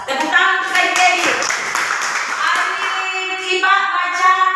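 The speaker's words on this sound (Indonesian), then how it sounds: "Tepuk tangan untuk Adik Edi." A class of students gives a round of hand clapping for a classmate, steady and moderately loud, with voices and chatter mixed in under the claps.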